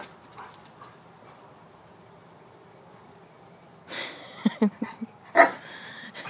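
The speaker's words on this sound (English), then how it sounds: "Crazy dog." A dog barks in short, loud bursts and then a sharper yelp after a long quiet stretch, sounding agitated and close.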